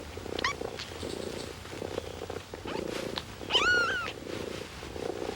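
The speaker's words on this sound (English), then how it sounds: "has produced a litter of 5 kittens in a cardboard box. These youngsters are less than a day old." A mother cat purrs steadily beside her litter of five newborn kittens, less than a day old, in a cardboard box; thin, high kitten mews rise over the continuous close purr.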